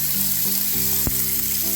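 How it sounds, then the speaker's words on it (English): Hot water runs steadily from a kitchen tap into a sink, a loud, constant close-up rush with a low hum beneath and one brief sharp knock partway through, no talking. "Get some hot water and fill up your sink."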